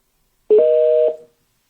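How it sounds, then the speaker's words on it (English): A telephone dialing tone, heard when placing a call to a radio show caller, sounds as one short, clean electronic beep in otherwise silent surroundings. "So, before I go, let me call this caller and Tieme."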